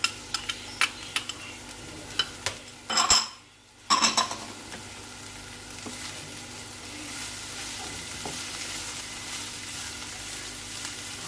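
Shredded cabbage and onion fry in a pan for chicken spring roll filling, giving a steady close sizzle with a few clattering utensil knocks and a brief dip near the start as ingredients are added.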